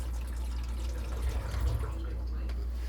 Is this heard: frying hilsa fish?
no